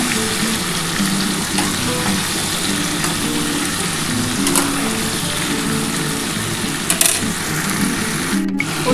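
Potatoes and cauliflower frying in oil for a rohu fish curry, giving a steady, close, continuous sizzle with faint stirring, no talk over it.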